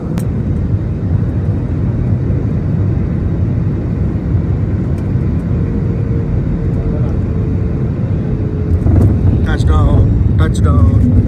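An airliner touching down at Delhi, heard from inside the cabin as a loud, steady engine and rolling roar, with light rattles near the end and a person speaking over it.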